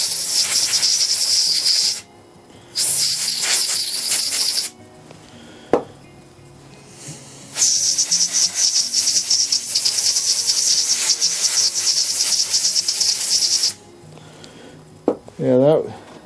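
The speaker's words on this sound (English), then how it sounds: "Should probably use my air blower," Compressed air hisses from an air blower nozzle while cleaning spark plugs from a 1947 Johnson TD-20 outboard motor. The loud bursts come in three long blasts separated by short pauses, with a voice speaking briefly near the end.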